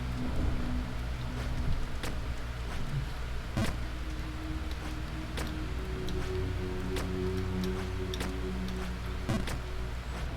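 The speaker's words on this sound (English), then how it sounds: "I'm just seriously hoping that the hail is not making it through." Hail falls steadily in a constant dense patter, with sharp louder clicks of individual stones striking a nearby surface scattered throughout, close and fairly loud with no talk.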